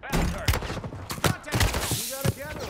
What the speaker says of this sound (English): They shooting at you, look.